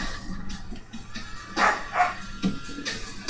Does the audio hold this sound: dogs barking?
yes